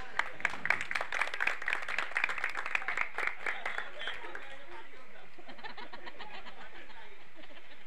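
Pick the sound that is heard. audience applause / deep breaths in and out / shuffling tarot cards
audience applause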